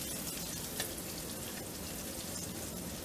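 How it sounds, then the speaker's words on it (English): Potato cakes sizzle in vegetable oil in a pan over medium heat, a continuous dense crackle with scattered sharper pops throughout. "I'm frying my potato cakes in just some vegetable oil"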